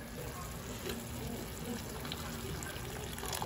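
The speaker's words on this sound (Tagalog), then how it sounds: "lagyan natin siya ng mainit na tubig ulit" Hot water poured into a pan of simmering pork sarsa with oyster sauce, a steady hissing sizzle and gush that runs unbroken, close and moderately loud.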